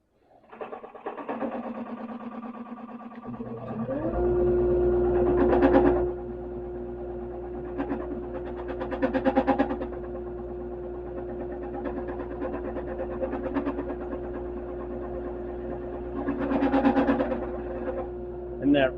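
A wood lathe turning at about 551 RPM bores and squares a pepper grinder blank, a steady motor hum with rough cutting surges swelling every few seconds, someone talking throughout.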